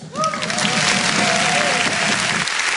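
Applause fills a parliamentary chamber after a vote passes with the ayes carrying it, steady and dense for the whole stretch, with a voice briefly rising over the clapping.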